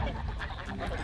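Ducks quack on a pond, a cluster of close, busy calls layered over one another in steady outdoor background noise.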